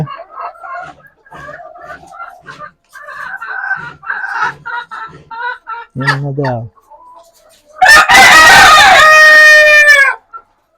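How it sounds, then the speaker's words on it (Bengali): Chickens on a poultry farm in intense heat cluck and call near the microphone, their sounds scattered among brief pauses, before a loud, sustained rooster crow near the end. "এই যে কতগুলো মুরগি হা করে শ্বাস নিচ্ছে"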